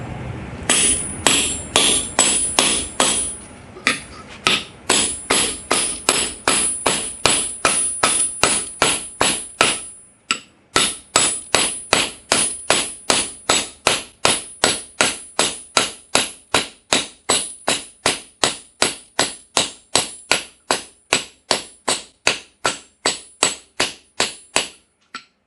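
A brass hammer strikes the spine of a MagnaCut and 1095 steel knife to chop through a 16D nail, producing dozens of sharp metallic clanks in a rapid, steady rhythm, loud and close, with a brief pause before continuing.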